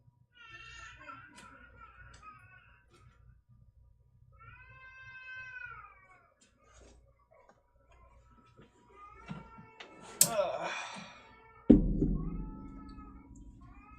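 A cat meows several times in short, separate cries, the middle ones drawn out and wavering, followed by a louder, harsher burst and a sudden low thump near the end.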